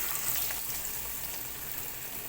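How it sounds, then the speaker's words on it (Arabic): Breaded cutlets (pané) coloured with turmeric frying in hot oil, a steady close hiss and fine bubbling sizzle throughout with no talking. "يلا بينا بقى نروح على الزيت. هننزل كده بالبانيه"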